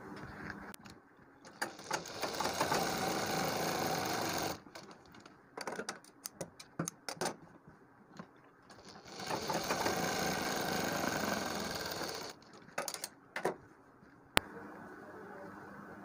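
A sewing machine stitches piping onto a kurti neck, running in steady whirring bursts of a few seconds separated by pauses and small clicks, with no talk.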